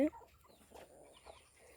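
Chickens scrabble over scattered rice, giving a few brief clucks and squabbling calls near the listener, faint and sparse against a quiet yard.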